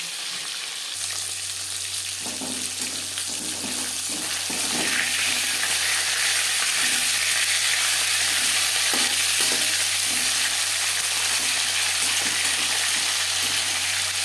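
Pieces of rui fish sizzle steadily in hot refined oil in a pan. The crackling frying noise grows louder after a few seconds and continues evenly, with occasional soft knocks and spatters.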